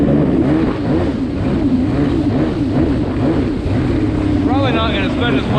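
A cheap jetski fitted with a big motor revs hard, giving a loud, constant, rough engine roar that wavers and rises in pitch near the end.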